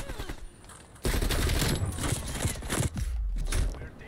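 XM4 rifle gunfire in Call of Duty Black Ops Cold War, a loud sustained volley of rapid shots starting abruptly after a quieter moment, with brief breaks between bursts.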